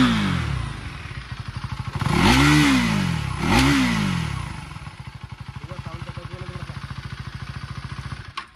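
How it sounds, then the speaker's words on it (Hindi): A 2024 KTM Duke 390 Gen3 motorcycle idles with a steady, close thumping beat, then gets two quick throttle blips that rise and fall. It drops back to a lumpy idle pulse. "रेव करते हैं हल्का सा।"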